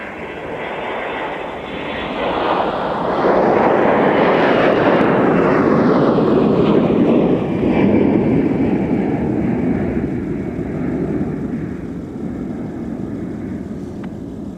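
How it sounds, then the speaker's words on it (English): Airbus A321 jet taking off at a snowy Minneapolis–St. Paul airport, a loud broadband engine roar that swells to a peak around the midpoint and slowly recedes, with no talk. "Another spectacular A321 departure."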